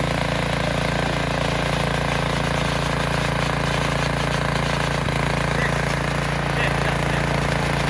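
A racing lawn mower fitted with dual exhaust roars loud and constant while being ridden, a dense engine drone that fills the whole stretch without a break.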